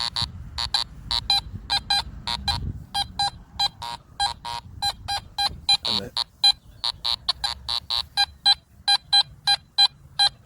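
Metal detector with a coil sweeping over buried iron on a test bed, giving a rapid train of short, sharp beeping signal tones, loud and close, with a brief rising chirp midway and faint low rumble beneath.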